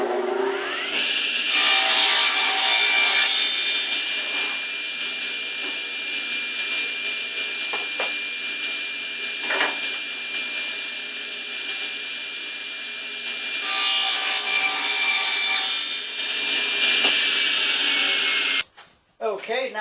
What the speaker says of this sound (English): for the next cut I need to square up the ends. So I'm using my miter gauge.